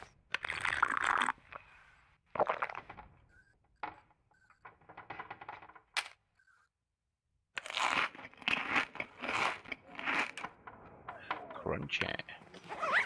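Crunchy eating sounds from the survival video game The Long Dark come in close, repeated bursts of crisp crunching, with pauses between and a brief near-silent gap partway through.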